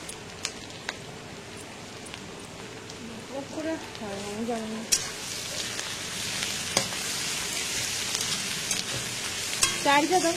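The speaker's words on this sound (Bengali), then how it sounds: "আদাটা একটু ভালো করে ভেজে নিচ্ছি" Ginger paste frying in a little oil in a pan, a steady broad sizzle with occasional stirring scrapes and clinks, close by, with a voice talking over parts of it.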